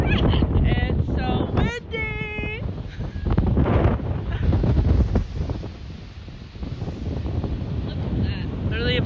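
Wind gusts batter the microphone on a hike up Table Mountain, a loud, rough rumble that rises and falls throughout, with a few brief voice-like sounds early on.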